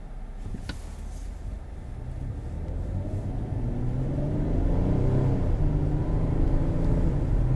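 Steady engine and road rumble from inside a 2020 Kia Sorento SX V6 on the move, the low drone swelling gradually as the car accelerates, with no talking.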